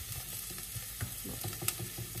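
Onions sizzle and fry in a saucepan while being stirred, a steady close hiss with repeated scraping and clinking from the stirring, heard alone with no talk.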